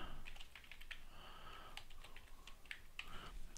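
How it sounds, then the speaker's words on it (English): Someone types a blog post on a computer keyboard, quick irregular key clicks close by and soft, with faint breathing between strokes. "and then type in my first post"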